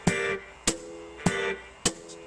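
Four sharp, evenly spaced metallic taps of a sardine can struck on guitar strings, each with a brief buzzing ring, like a snare-style hit.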